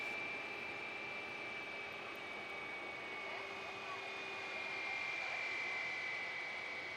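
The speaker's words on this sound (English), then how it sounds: "I expect Jetstar to spool up like crazy and get out of here" Jetstar jet airliner engines running at Christchurch airport, a steady, fairly distant roar with a thin high whine that holds level for the whole stretch.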